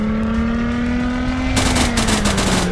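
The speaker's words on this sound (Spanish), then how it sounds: "Tremendo tiroteo" Heavy gunfire in the survival game Unturned, a rapid burst of automatic shots breaking in over a steady droning engine hum, loud and close, with no voices.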